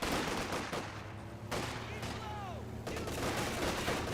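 Rapid bursts of rifle and machine-gun fire from infantry fighting in Company of Heroes 2 crackle continuously at mid distance, with short pauses and a faint whistling projectile sound in the middle.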